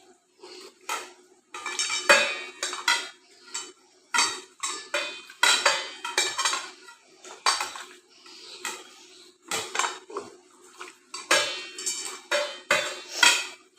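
Chicken being mixed with cornflour in a bowl, heard as a close, irregular run of clinking, scraping and knocking strokes against the dish, with no talking.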